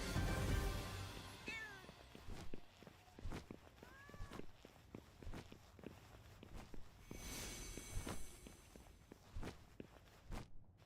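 Cat-like creatures in the video game Palworld meow in short rising cries over a busy bed of running footsteps and thumps, the calls clear but mid-level, with no talk.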